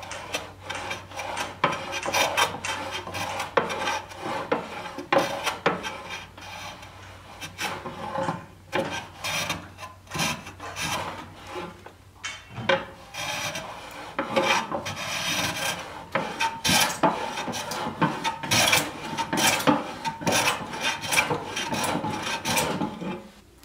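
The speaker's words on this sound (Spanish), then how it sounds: "Para esta segunda prueba vamos a cepillar madera de testa o madera de fin de grano." Manual hand plane shaving end grain wood, with a long series of close, rough rasping strokes in a steady rhythm and brief pauses between passes, with no talk.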